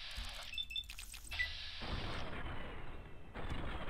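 Gunfire in Fallout: New Vegas, a low muffled burst near the start followed by a sustained rumbling, crackling wash of noise that swells again near the end, with no talk.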